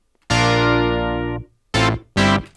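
Arturia's DX7 V software synth plays the Brass 2 preset: one long held brassy chord of about a second that fades off, then two short stabs. The tone is bright and buzzy, close and loud, with no talking.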